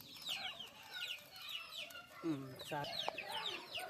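Several village chickens cluck and squawk in the evening in quick overlapping calls, fairly close by, with a few sharper cries standing out near the end.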